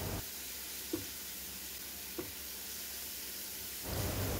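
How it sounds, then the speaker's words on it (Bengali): Garlic and ginger paste frying with spices in a pan for fish kalia, a steady close sizzle and hiss with a couple of soft stirring clicks. "আবারও সব কিছুকে কিছুটা ভেজে নিতে হবে।"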